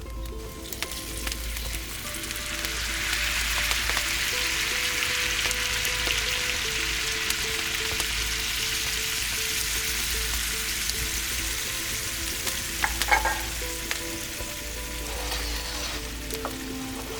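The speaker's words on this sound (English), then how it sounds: "Add all the stock around the potatoes so it comes about halfway up." Stock poured around fondant potatoes in a pan for a wood-fired oven sets off a broad, steady sizzle that swells and holds for many seconds, with a few light clinks near the end.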